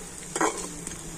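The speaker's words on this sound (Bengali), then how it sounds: "তো এই রুটিটা কিন্তু এপিট উপিট করে ভালো করে আমি ভেজে নিয়েছি।" Flatbread fries in a pan with oil, giving a soft, steady sizzle with a brief louder crackle near the start and small spits of sound afterward.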